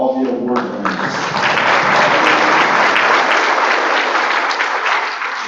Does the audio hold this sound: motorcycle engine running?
no